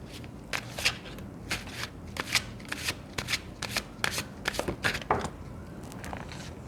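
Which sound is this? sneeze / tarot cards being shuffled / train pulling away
tarot cards being shuffled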